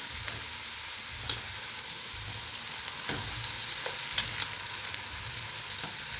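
Potato and eggplant sabzi sizzles and fries steadily in a pan over medium heat, a continuous crackling hiss with occasional faint clicks of stirring, no voices.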